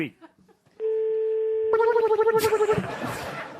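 Telephone dialing jingle on a French radio comedy show: a steady dial tone, then a quick run of pulsing keypad tones and a ring-like burst, loud and clear, with a brief voice at the start.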